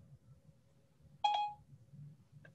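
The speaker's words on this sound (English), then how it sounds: "made my stupid phone think I said Siri" Phone voice-assistant activation chime: a single short electronic tone sounding clearly over quiet room background, followed by a faint second blip.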